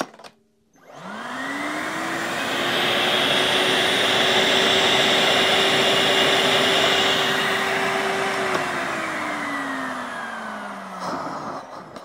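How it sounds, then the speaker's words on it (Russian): A Makita DVC150L cordless vacuum cleaner switches on with a click, whirs at a steady high-pitched whine for several seconds, then winds down and clicks off. "от батареек этот пылесос"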